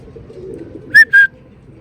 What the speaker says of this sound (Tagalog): Ayun sila mga kalapati natin.